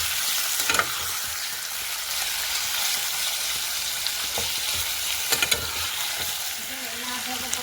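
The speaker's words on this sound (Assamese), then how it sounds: "এতিয়া আৰু মই এয়া পিঁয়াজখিনি ধুনীয়াকৈ অলপমান ফ্ৰাই কৰি আছোঁ দেই।" Onions and chicken meat fry in a pan with a steady, loud sizzle, broken by a few sharp clinks and scrapes of stirring.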